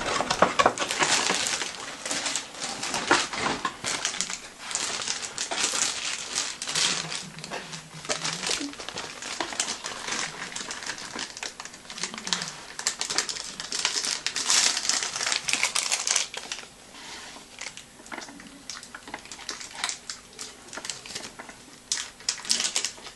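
Plastic wrapping crinkles and rustles continuously as a Griffon 1/7 scale gothic Haruhi Suzumiya statue is unpacked, close and busy with irregular crackling bursts, with faint voices at times.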